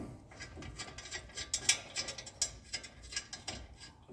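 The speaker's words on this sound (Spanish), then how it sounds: "Los apretamos bien con la matraca" A ratchet wrench tightens brake caliper bolts on a VW Vento, giving a rapid continuous train of close metallic clicks in uneven bursts, with no voices.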